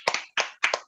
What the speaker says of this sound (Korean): 저기 멀리서 박수 좀 쳐주세요.